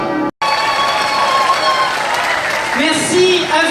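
An audience at an evening event in Tourcoing applauds steadily and loudly after a brief gap, with a few voices rising over the clapping near the end.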